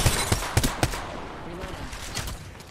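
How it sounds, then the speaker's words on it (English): Video game gunfire in a rapid close burst of four or five sharp shots within the first second, followed by fainter scattered shots further off. "Taking fire."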